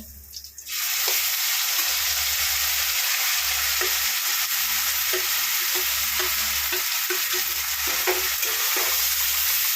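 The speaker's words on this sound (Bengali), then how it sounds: "এবার কচু পাতাটা দিয়ে দেবো।" Taro leaf paste hitting a wok of hot oil with fried garlic and black cumin, bursting into a loud steady sizzle that holds throughout, with faint stirring taps.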